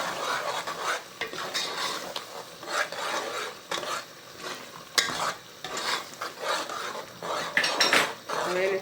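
A utensil scrapes and clinks steadily against a pot while crab curry with coriander is mixed, with a continuous rhythm of stirring over a soft simmer.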